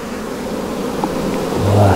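Honey bees buzz steadily as they are shaken off a frame of honey and nectar during a hive check, a dense close swarm drone that swells briefly near the end.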